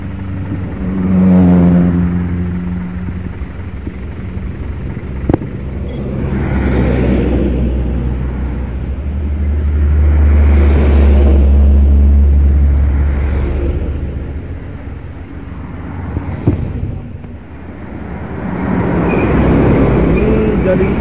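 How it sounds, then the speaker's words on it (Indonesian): A box truck's engine, still running after the truck crashed into a bridge, idles and rumbles nearby, with swelling low drone and passing traffic, while people talk over it. "Dan truk ini masih menyala ya."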